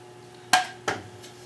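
Two sharp metallic clanks close by as an air conditioner part is set down on a hard surface, quick knocks half a second apart over a low steady hum.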